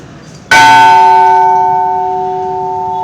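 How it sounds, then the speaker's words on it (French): A single loud church bell strike rings out sharply, then its clear tones sustain and slowly fade, close and alone. "Les cloches ont une importance capitale dans l'Église catholique."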